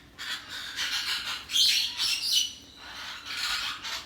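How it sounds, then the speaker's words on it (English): Birds at Parrot Mountain chirp and squawk in overlapping bursts, a loud, bright chatter that rises and falls in waves across the aviary. "There's a lot of little birds that are scaring me."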